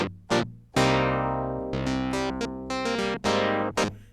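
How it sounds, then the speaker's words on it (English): Dry Synth Clavinet patch from the Tyrell synth in Ableton for a 1970s raw underground disco track, playing a short run of bright, plucky staccato notes and chords, clean and unprocessed, no voice. "make sure you've got the Clavinet 2 sound up, which is the Synth Clavinet sound from the Tyrell Synth"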